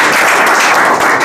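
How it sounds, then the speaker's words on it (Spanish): Guests applaud at a civil wedding ceremony in Santa Rosa, a dense, loud burst of clapping that fills the whole moment without any talk. "un aplauso."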